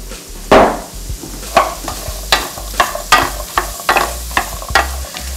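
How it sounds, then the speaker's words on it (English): Vegetables sweating in butter in a pot for a chicken stew, with a steady soft sizzle broken by repeated stirring scrapes and clatters, close and alone without talk. "To our butter, we're going to add our vegetables. We're going to sweat the vegetables."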